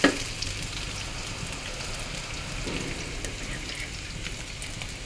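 Onions frying in hot oil in a home kitchen, a steady, dense sizzle that stays even and close throughout with no talking over it.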